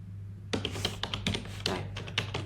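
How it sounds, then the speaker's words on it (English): Typing an email address on a computer keyboard, a quick run of crisp, close key taps in uneven bursts over a steady low background hum, with no talking. "app is not gonna let you see what I'm typing right now"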